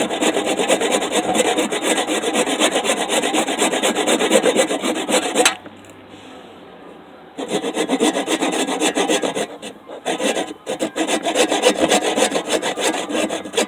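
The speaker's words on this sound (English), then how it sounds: "With a handsaw, the smaller pieces are way easier to do" A handsaw cuts through a small piece of wood in steady, loud back-and-forth strokes, broken by a short pause partway through and a few brief stops before the sawing resumes.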